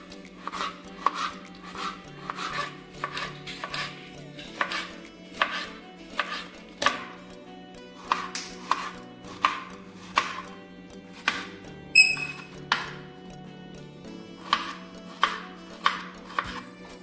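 Knife chopping vegetables such as capsicum, potato, cucumber, beans and carrot on a board, a steady run of crisp, close taps in quick bursts with short pauses, clear and alone without talk.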